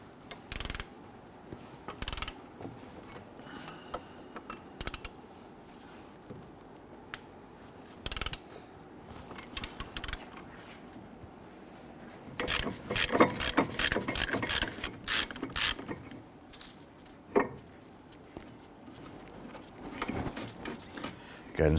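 A ratchet works loose the 21 mm brake caliper bracket bolts on a 2011-2021 Jeep Grand Cherokee front hub, giving quiet intermittent clicking bursts that turn busier and faster midway, with faint scraping between.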